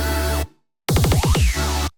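Electronic music break: sustained synth chords cut off to near silence, then return with a stuttering run of punchy hits and gliding tones before the full chord bed ends abruptly, loud and with no voice.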